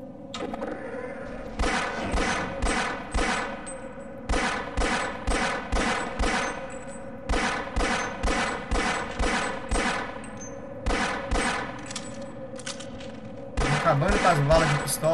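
Repeated gunfire in the Half-Life video game, pistol shots fired in quick bursts of several rounds with brief pauses between, loud and close throughout, with a denser burst at the end.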